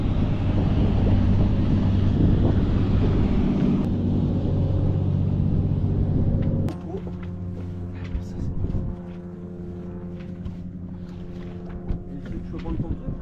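A motorboat on open water with a steady, loud engine drone and wind rush, the roar dropping abruptly partway through into a lower hum with clattering and splashing, while voices talk beneath it.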